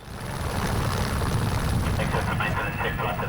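An anti-poaching helicopter flies over rhino territory in South Africa, heard from inside the cabin as a loud, steady rotor drone with a rapid blade throb, and a voice talks over it.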